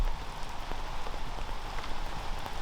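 Steady rain falls during a disc golf round at an outdoor course, a dense, even hiss of drops hitting surfaces with no voices.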